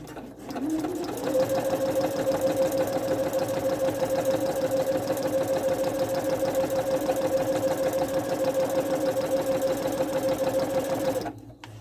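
Sewing machine fitted with general purpose foot A runs a single long basting row, a steady continuous mechanical whir with a fixed tonal hum from start to finish, close and loud, with no talking.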